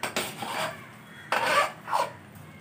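Cooked coconut milk rice stirred and mixed in a pot, a few scraping, rasping strokes of a spoon against the pot in separate bursts, close and fairly loud, no talk.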